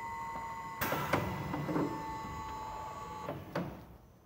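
A six-piston bottle filling machine cycles with sharp mechanical clacks and valve clicks over a steady tonal hum, a few distinct knocks standing out at close range.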